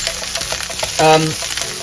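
Finely chopped leek sizzles steadily in a hot pan, a constant close frying hiss with a brief stirring or scraping sound partway through.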